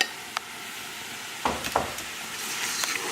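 Diced vegetables sizzle in a pot of white bean chicken chili, a steady hiss with a few brief clatters and stirring scrapes, close and clear with no talking.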